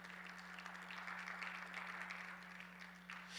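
A congregation at a Bible seminary class gives a round of applause, faint and distant over a steady low electrical hum, the clapping continuing evenly for a few seconds.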